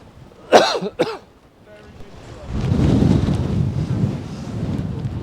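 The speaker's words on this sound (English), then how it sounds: "It's a tad breezy up here, but it's not as bad as I thought it was going to be." Gusty wind buffets the microphone on the exposed mountain summit of Helvellyn, a roaring rush that builds after a couple of coughs and keeps blowing steadily.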